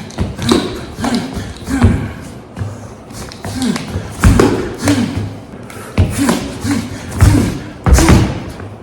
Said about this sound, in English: Here I am showing different strikes you can do with the crook top cane and the ball top cane.